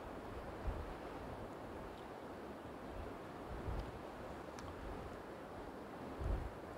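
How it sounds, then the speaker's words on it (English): Waves lap the shore of a beach on the west coast of Scotland, a faint, steady wash with a few gentle swells and light wind noise. "waves are lapping the shore"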